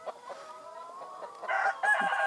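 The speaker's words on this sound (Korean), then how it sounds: "벌써 991제곱미터 양계장에서 약 400마리의 닭과 함께하고 있습니다" Chickens cluck and a rooster crows on a Korean poultry farm of about 400 birds near Jirisan, heard close with layered calls and no talk.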